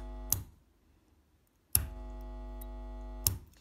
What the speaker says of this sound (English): Hopefully you can hear that buzzing in the background, which means that the switch works.